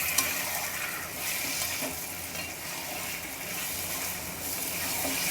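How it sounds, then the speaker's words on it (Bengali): Prawn and bottle gourd curry with potatoes being stirred after water is added, a soft continuous bubbling sizzle with faint stirring, close and low in level. "জলের সঙ্গে সমস্ত কিছু ভালোভাবে আবার একটু নেড়ে চেড়ে নিলাম"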